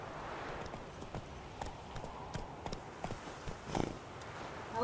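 Hooves of Roach, the horse in The Witcher 3, clip-clop in a loose, uneven rhythm over a steady ambient game background, with a brief louder burst near the end.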